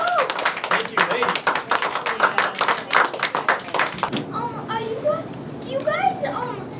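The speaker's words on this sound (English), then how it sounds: "let's have a round of applause, guys" Community awards gathering where a group claps in a brisk burst, then the applause stops and children's voices chatter and cheer close by.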